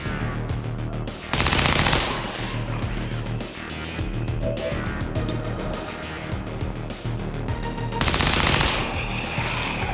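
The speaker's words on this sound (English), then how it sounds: "we might as well keep shooting" Gunfire in the strategy game XCOM 2 comes as two loud bursts of rapid automatic shots, roughly six seconds apart, over a steady bed of game sound.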